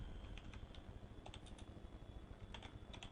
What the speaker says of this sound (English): I would like to type a text.